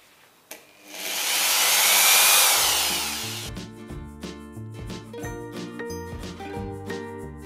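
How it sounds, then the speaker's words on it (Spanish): A loud, steady whirring burst of a power drill runs for about three seconds, then gives way to quieter knocking and rattling of tools. "podemos taladrar con total tranquilidad"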